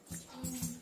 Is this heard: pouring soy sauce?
no